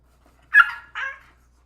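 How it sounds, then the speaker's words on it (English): A dog gives two short barks close by, the second a little softer, with silence around them. "Oh man, my dog's losing his mind."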